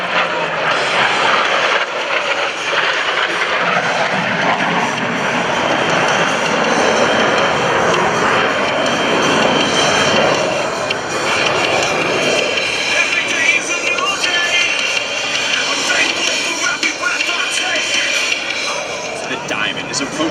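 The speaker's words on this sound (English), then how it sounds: "as they perform the opposing knife edge pass" Blue Angels US Navy jets fly an opposing knife edge pass at an air show open house, a loud sustained roar that swells and holds for the whole stretch, with crowd or announcer voices faintly underneath.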